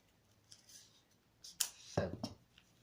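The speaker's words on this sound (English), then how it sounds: "I'm just using scissors to open this" Scissors cut open a package in a quiet room, giving a few sharp, close snips and crisp rustles spread across a couple of seconds, with no talking.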